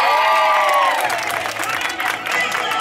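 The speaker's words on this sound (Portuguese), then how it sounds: "Uma salva de palmas pro Paulo, galera." Guests at a wife's birthday party in the north zone of São Paulo break into loud applause and cheering, a dense crowd roar that carries on throughout the moment.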